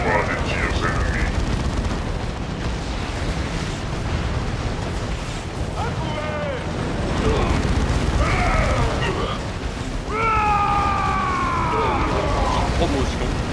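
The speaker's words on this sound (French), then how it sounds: "Je reçois des tirs ennemis." Battle noise from Dawn of War: Chaos Rising, with steady rumbling gunfire and explosions running throughout, plus bursts of whistling, chirping game effects and voice-like unit barks mixed over the din.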